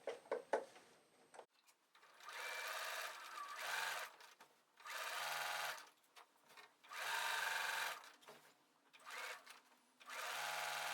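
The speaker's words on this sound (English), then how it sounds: "I'm just going to sew it from one edge to the other." A sewing machine stitches binding along a scalloped quilt border. It runs in several bursts of rapid stitching, each a second or two long, separated by short pauses. The machine is close and clear, with a few light handling taps at the start.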